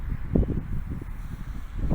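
Wind gusting against a microphone outdoors during a flying session, a close, low rumbling buffet that rises and falls unevenly through the whole clip with no talking.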